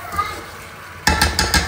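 A lid clanks down onto a pot of chicken karahi on low heat, a few close metallic knocks in quick succession after a quiet stretch of faint kitchen noise.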